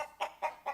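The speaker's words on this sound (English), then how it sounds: "We got chickens here." Chickens clucking on a farm: three short, close bursts of hen clucks in a steady rhythm about a quarter second apart, clear against a quiet background.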